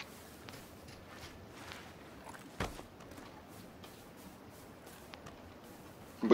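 Soft, quick footsteps of characters moving at a brisk walk in the video game PUBG, faint and fairly regular, with an occasional louder thump against a quiet background.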